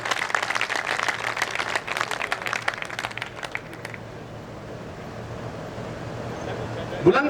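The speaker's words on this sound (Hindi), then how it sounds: "हमारे जो भाई हैं वो बड़ी तालियों से इनका स्वागत करेंगे" At a Hindi poetry gathering, an audience claps in a brisk patter of many hands for several seconds, then the applause fades into quiet room murmur with a sharp bump near the end.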